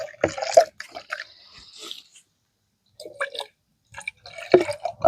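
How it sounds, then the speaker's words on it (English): A French press screen is rinsed with water at an off-grid dugout campsite, making close, intermittent splashing and dripping in short bursts separated by brief quiet gaps. "I'm going to wash the screen and stuff off."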